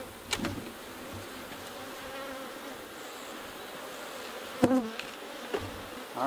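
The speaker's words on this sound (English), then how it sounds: "get these bees going a little bit." Honeybees swarm around an opened hive during an inspection, a steady close buzzing hum with a few louder passes of individual bees near the microphone.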